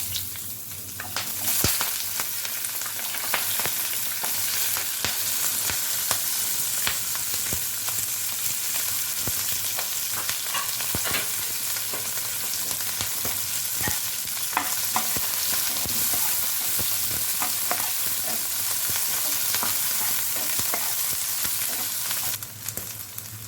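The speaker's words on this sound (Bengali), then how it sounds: "এবার আমি ক্যাপসিকামটা একটু শ্যালো ফ্রাই করে নেব, মানে একটু হালকা করে ভেজে নেব।" Capsicum shallow fried in a pan of oil, a dense, loud crackling sizzle running steadily throughout, with frequent scraping and clattering of a spatula, no voices.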